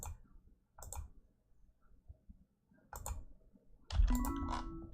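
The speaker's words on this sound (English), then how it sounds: "make sure I'm clicking the right thing" A computer mouse clicks during play of the game Lord of Dwarves: a few sparse, quiet, close clicks in small clusters, then a louder tonal game sound at the end.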